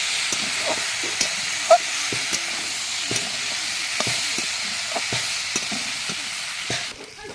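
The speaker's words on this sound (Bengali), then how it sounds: "এবার ভালো করে ভেজে নিয়ে জল দিয়ে দেবো" Vegetables sizzle and hiss steadily in a hot pan while being stirred, with repeated soft clicks and scrapes of a utensil against the pan.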